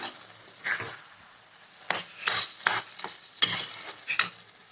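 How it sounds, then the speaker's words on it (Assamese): Stirring black taro and lentil curry in a pot, a series of scraping, rasping strokes in irregular bursts with quiet gaps, close-up and without speech. "আৰু এতিয়া লৰাই দিম গোটেইখিনি"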